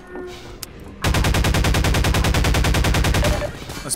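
Automatic rifle fire in the video game Half-Life 2 starts after about a second of quieter game ambience, then continues as a loud, close, rapid burst of evenly spaced shots.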